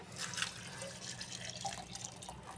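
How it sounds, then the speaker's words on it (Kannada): A glass of water poured into salted hill gooseberries for juice, a soft, close trickle and splash of liquid, faint and alone. "ಈಗ ನಾನು ಇದನ್ನು ಒಂದು ಲೋಟ ನೀರು ಹಾಕ್ತಾಯಿದ್ದೀನಿ"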